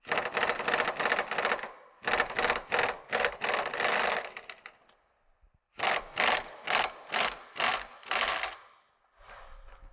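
A ratchet wrench with a 21mm socket turning a bolt on a Ford Mustang S550 suspension, heard as close, crisp runs of rapid clicking in several bursts with brief pauses between, no talk.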